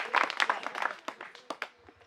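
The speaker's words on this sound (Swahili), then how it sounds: "Pigieni walimu makofi mazuri" A small crowd claps for the teachers at a house handover event. The brief applause is thin and scattered, with irregular individual claps that taper off quickly.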